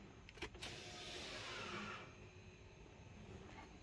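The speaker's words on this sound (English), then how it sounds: "I'll engage the parking brake" Electric parking brake on a BMW X3 F25 engaging, a short faint motor whir after a couple of soft clicks, heard close inside a quiet car with no talking.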